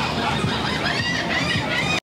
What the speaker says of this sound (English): the seagulls are freaking out right now